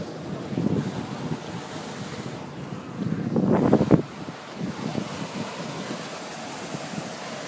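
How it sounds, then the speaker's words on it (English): Strong gusting wind and crashing surf on a shore ahead of Hurricane Sandy, a rough, blustery roar with a louder gust surge midway, buffeting the microphone, with no talking. "It's so windy."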